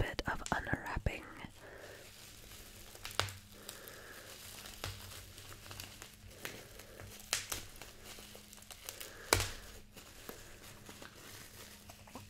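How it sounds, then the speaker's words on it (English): A wrapped item from an Artza box is unwrapped up close, with soft crinkling and tearing of paper, occasional sharper rustles and whispered speech between them. "this one is going to take a little bit of unwrapping"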